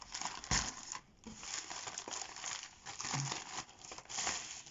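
Close, quiet crinkling of a plastic pouch being handled and opened, with intermittent rustles and crackles.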